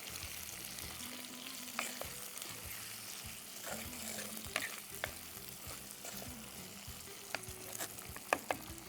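Onions sautéed with salt and ginger-garlic paste being stirred in a pan, a continuous low sizzle with occasional clinks and scrapes of the spoon, fairly quiet and close.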